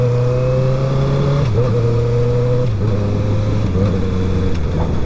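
Honda CB650R motorcycle engine on the road, pulling through gears at low RPM with an OEM quickshifter, a steady close drone broken by three quick shift dips as the pitch drops and climbs again.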